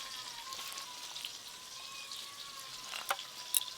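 Pieces of pomfret (rupchanda) fish fry in hot oil, giving a steady, soft sizzling hiss with scattered small pops, close by and continuous throughout.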